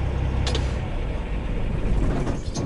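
A truck's diesel engine runs steadily with a low, constant rumble, close by and loud, with a couple of brief clanks over the drone and no talk.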